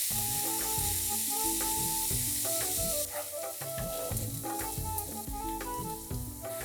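Onions frying with salt in a pan, a steady close sizzle with repeated stirring knocks, while gentle music plays underneath.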